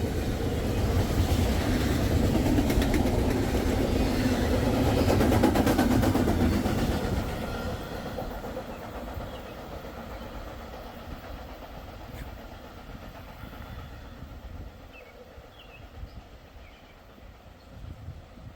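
A train with a locomotive approaching and passing, looking for a CSXT 1899 Pere Marquette heritage locomotive alongside W&LE 7012 and 7026: loud broadband rumble and rolling wheel noise builds, peaks, then fades into quieter distant ambience.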